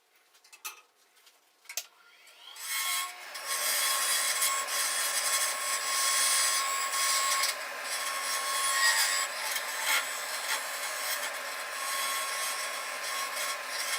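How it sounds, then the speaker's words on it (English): A tool cuts a segmented wood bowl spinning on a lathe. A few light knocks and taps come first, then a steady, fairly loud scraping rasp runs on with small surges and no voices. "It's difficult to see and judge the bowl tip edge as I am turning on the lathe."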